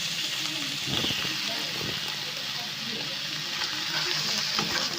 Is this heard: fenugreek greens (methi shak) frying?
yes